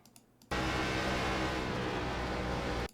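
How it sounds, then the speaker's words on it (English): An ARCA stock car engine in iRacing at Kentucky bursts in loud and close after a brief quiet moment, holding a steady, dense roar before cutting off abruptly at the end. "listen to the difference in my throttle"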